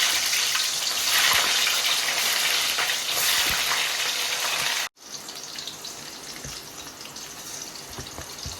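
Bitter gourd pieces for Guntur-style karam fry crackle in hot oil in a kadai, a loud, steady, hissing sizzle that breaks off for an instant midway and then continues slightly softer, with no talk.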